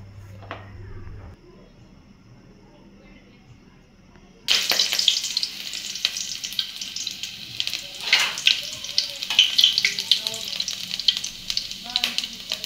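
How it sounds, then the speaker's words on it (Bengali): Mustard oil sizzling and spitting in a cooking pot on a stove, starting abruptly after a quiet stretch and crackling steadily with bright, uneven bursts, fairly close. "ডেকচিতে দিয়ে দিছে সর্ষে তেল, আজকে সর্ষে তেল দিয়ে রান্না হবে।"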